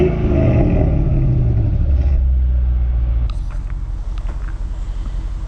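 An old-school car engine idles with a deep, loud, continuous rumble, then its tone shifts partway through as the revs change, with no talking.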